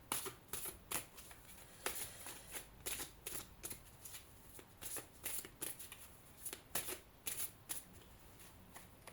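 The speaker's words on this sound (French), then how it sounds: "je vais retirer 2 autres cartes" A deck of cards is shuffled and drawn during a tarot-style reading, giving repeated crisp riffling and snapping bursts in an irregular rhythm, close and moderately loud, with no talking.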